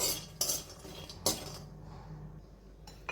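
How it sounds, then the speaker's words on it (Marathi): A utensil stirs and scrapes dry fruits roasting in a pan, giving a few close metallic clinks and scrapes at a quiet level, with no talking. "अजून एक दोन मिनिटं हे ड्रायफ्रुट्स भाजले की आपण बाजूला काढूया"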